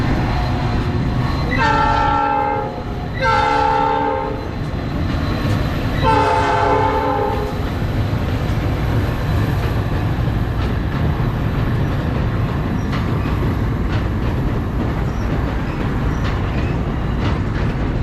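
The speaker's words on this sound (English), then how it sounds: "Panama Canal Railway." A Panama Canal Railway train passes close by, sounding three loud horn blasts in the first several seconds, then a steady rumble of rolling cars and wheels that continues to the end.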